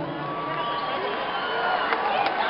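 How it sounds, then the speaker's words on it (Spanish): Concert crowd in Cali applauding and cheering in tribute to a late singer at a concert, a dense, steady wash of clapping and voices with a few sharper shouts near the end. "No un minuto de silencio, sino dos minutos de aplauso a uno de los cantantes más queridos que se nos adelantó"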